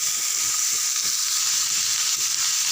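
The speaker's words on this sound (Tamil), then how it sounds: "நல்லா ஒரு 2 செகண்டு எண்ணெயில் வதங்கிட்டோம்" Chopped bottle gourd and onion sautéing in hot oil in a pan, a loud, constant close-up hiss and sizzle that holds steady throughout without any talking.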